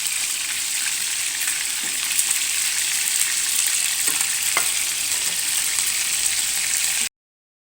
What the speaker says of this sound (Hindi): अब हमने ये अपने एक पैन में ऑयल लिया है, हम इसमें अपने कोफ्ते डालकर फ्राई करेंगे।